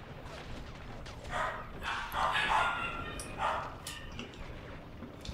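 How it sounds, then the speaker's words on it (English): Small dogs barking and yipping in short bursts in the background, moderately distant and faint, mixed with low room noise. "Excuse the doggies."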